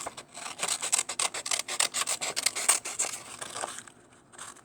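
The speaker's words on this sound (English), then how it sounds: "You're gonna cut out the turkey body." Scissors snip through paper to cut out a turkey body shape, a quick run of close, crisp rasping cuts that slow and fade out near the end.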